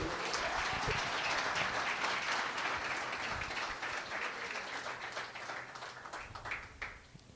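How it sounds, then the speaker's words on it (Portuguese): A crowd at a hypnosis show gives the performers a round of applause, a fairly soft, continuous wash of clapping heard from some distance that gradually thins and fades toward the end. "uma salva de palmas para os nossos astros"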